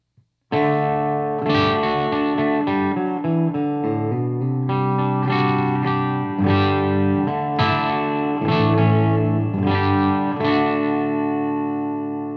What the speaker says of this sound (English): Right now, I'm on the clean channel with none of the voicing buttons engaged except for the depth and the reverb.